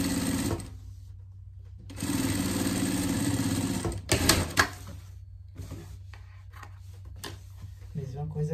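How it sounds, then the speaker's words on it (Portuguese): A sewing machine stitches denim for a pet vest, running in loud, steady bursts that stop and restart, with short pauses and clicks between runs. "Vou passar uma costura aqui."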